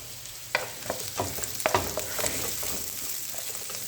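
Onion sautéed with ginger and garlic in hot oil, crackling and sizzling close up as a utensil stirs and scrapes the pan in irregular strokes, no talking.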